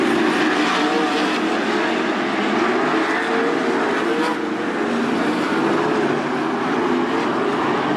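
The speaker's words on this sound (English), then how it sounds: "Lap cars racing side by side right in front of your leader." Sprint cars with 410 engines race at Attica Raceway Park during an A-Main, their engines forming a steady, loud, continuous roar with a brief dip midway, while a commentator's voice runs over the top.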